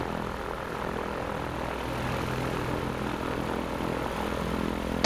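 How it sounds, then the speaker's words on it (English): A Zenith STOL CH 750 light sport airplane's engine and propeller drone steadily before a demo flight, a constant, fairly faint hum with no voices. "getting ready to do a demo flight. And we're in the 750 STOL."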